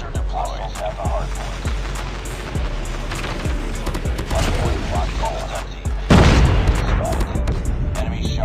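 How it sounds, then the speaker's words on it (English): An orbital laser strike in Call of Duty Mobile multiplayer lands amid scattered gunshots and thuds, building to a loud, sustained roaring blast in the final seconds. "friendly orbital laser deployed"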